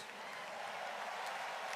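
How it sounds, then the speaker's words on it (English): A church congregation claps in praise, a dense, even patter of hands that stays fairly faint and continuous for a couple of seconds. "Give the Lord a big clap and a shout of praise."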